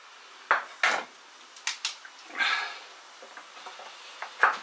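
A knife on a cutting board chops onion and garlic cloves into small pieces, giving a few sharp, separate knocks and scrapes that ring like kitchenware, close by, with no talk.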